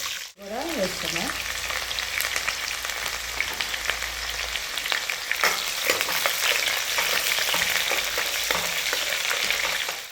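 Onions frying in oil with tempering seeds in a kadai, a steady close crackling sizzle with brief stirring clatter, running continuously without talk.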